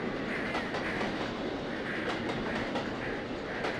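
A steam train runs along a Cornish branch line in the Trainz Plus simulator, with steady rumbling wheels and rhythmic clickety-clack over rail joints, continuous and fairly close.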